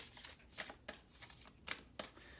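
Tarot cards are handled and laid out, with soft papery shuffling and several sharp slaps and flicks at an uneven rhythm, quiet and close, with no talk.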